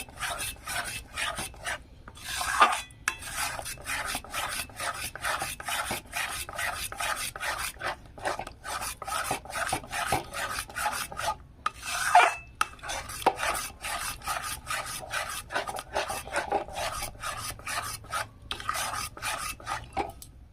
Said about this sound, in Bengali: এইভাবে ফেটে ফেটে এটা আমি পুরো ঘন করে নেব।